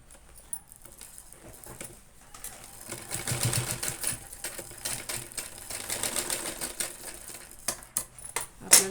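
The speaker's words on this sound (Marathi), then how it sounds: "व्यवस्थित टीप मारून घ्यायची" Sewing machine running in bursts of rapid mechanical clatter while stitching a cloth bag with lining, close and fairly loud, with brief pauses between runs.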